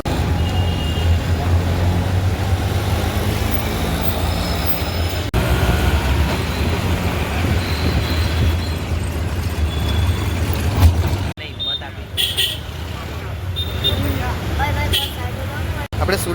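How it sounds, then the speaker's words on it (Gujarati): Ambience at Surat railway station: a steady low rumble of trains and platform noise runs throughout, with a sharp change near eleven seconds to a thinner, quieter wash of station sound. "આપણે સુરત રેલવે સ્ટેશન આવી ગયા."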